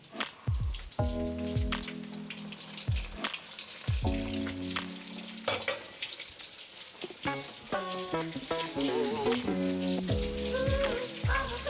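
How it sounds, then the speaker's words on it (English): Steady, crackling sizzle of Chinese egg rolls on their second fry in hot oil, with occasional clinks and scraping of utensils throughout. "Let's add these back for their second fry."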